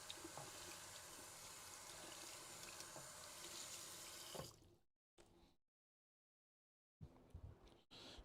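Tap water runs steadily into a sink while a computer part is washed for cleaning during a repair, a continuous rushing flow that cuts off abruptly, resumes in short bursts, then returns with clatter.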